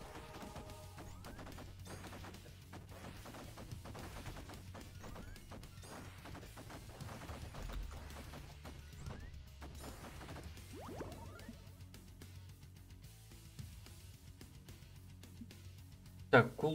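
Rapid gunfire from the roguelike video game Loki's Revenge, a steady stream of small shots and impacts under game music, ending with a louder burst near the end.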